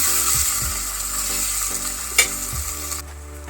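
Tomato, ginger-garlic paste and salt fry in a pan for a chicken curry, a continuous close sizzle broken by several soft stirring scrapes and one sharp clink, before the sizzle drops away near the end.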